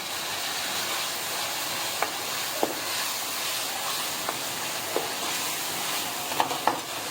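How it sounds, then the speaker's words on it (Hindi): Minced meat keema frying in a pan over high heat with ginger garlic paste, a steady loud sizzle and hiss with occasional sharp clicks and scrapes from stirring, no voices. "इसकी भुनाई कर लेनी है।"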